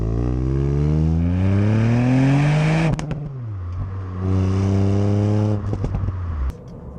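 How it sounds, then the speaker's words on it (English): Loud engine of a 2018 Ford Fiesta ST revving up and down twice, pitch climbing then falling with a throaty exhaust note, crackles and pops between the revs. "revving this car, hearing that exhaust"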